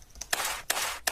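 A hi-hat built from a Fallout video game sound effect, with low end added and mid frequencies isolated: three sharp, bright ticks at an even pulse, each followed by a hissy noisy decay, alone with no talk.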